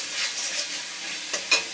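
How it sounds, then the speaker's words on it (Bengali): Spice paste fries in a pan while being stirred, producing a bright hiss of sizzling with scraping strokes, then two sharper clicks of the spoon near the end, heard up close with no talking. "এবার আমি মশলাটাকে কষিয়ে নেব"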